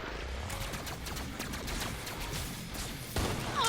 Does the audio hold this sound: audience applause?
no